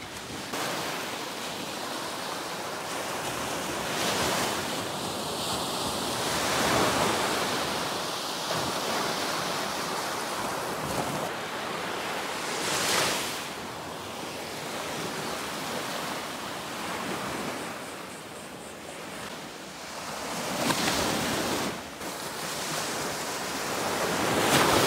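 Ocean waves washing onto a beach, a continuous broad surf roar with several louder swells rising and falling, plus some wind buffeting the microphone.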